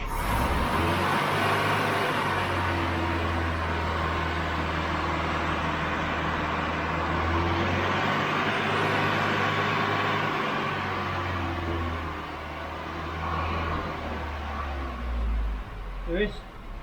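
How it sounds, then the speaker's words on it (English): Ford Cortina Mk3 four-cylinder engine running steadily nearby with a low, even drone and a slight rise in revs, held at a constant level for most of the stretch. "Let me just rev it, that looks quite good."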